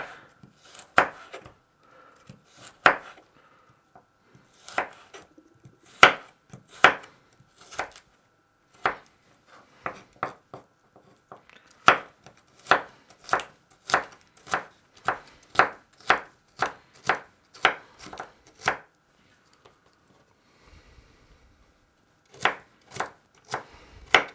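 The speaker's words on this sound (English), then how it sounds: "I forgot to film me chopping the celery" A knife chops celery on a cutting board in crisp, steady strokes, some quick runs and short pauses between, close and clear with no talking.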